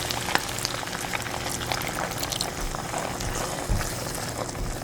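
A cornstarch and water slurry bubbles and sizzles in a pan of stir-fried char siu pork, a dense, continuous crackling hiss with a few louder pops and clatters, close and with no talking.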